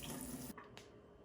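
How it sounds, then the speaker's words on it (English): Waterdrop reverse osmosis filtration system flushing water, a steady faucet-like rush that cuts off abruptly about halfway through, followed by quiet. "Okay, everything is done flushing."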